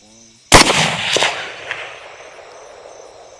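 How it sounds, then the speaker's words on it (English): A 22 Nosler rifle fired while hunting wild hogs outdoors, one sharp loud close shot with a quick second crack right after, then a long rolling echo fading away. "I think I shot a little bit after you."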